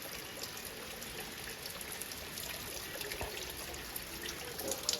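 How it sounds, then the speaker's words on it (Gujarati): Steady rain falls on and around a village house rooftop terrace, a soft, even hiss that continues without a break and stays fairly faint. "વરસાદ વધારે આવે છે।"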